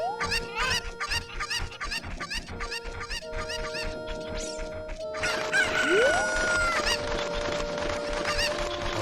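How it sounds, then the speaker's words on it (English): Cucco chickens in The Legend of Zelda: Ocarina of Time squawk and crow in a loud, frantic flurry of repeated cries, layered over game music and continuing throughout. "It's hard to hear it over these cuckoos that are freaking out"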